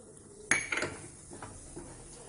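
A spoon scrapes and clinks against a pan as ghee-roasted cashews are stirred into thick urad dal halwa, a quiet burst of a few knocks followed by soft scraping.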